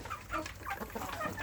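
Free-range village chickens cluck softly in short, faint bursts close by.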